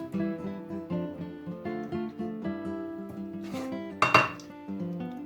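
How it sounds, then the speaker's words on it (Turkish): Meat placed under an eggplant layer in a pot for eggplant-wrapped beef pilaf: repeated close clinks and scrapes of utensils against the pot, with a louder clatter near the end. "Evet arkadaşlar şimdi bunun altına etimizi koyalım şöyle."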